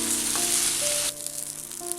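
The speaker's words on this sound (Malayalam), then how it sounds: "അരി ഒന്ന് ചെറുതായിട്ട് ഇങ്ങനെ പൊരിഞ്ഞു തുടങ്ങിയിട്ടുണ്ട്." Washed rice sizzling and frying in hot oil for Zurbiyan rice, a steady close hiss with faint stirring, quieter in the second half.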